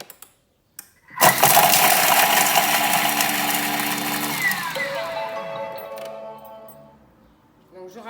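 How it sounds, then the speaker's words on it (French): A Thermomix blends parsley and three garlic cloves at speed 7, starting with a loud burst of whirring blades and chopping that holds steady, then winds down and fades over several seconds. "Je ferme mon bol et je vais mixer 3 secondes."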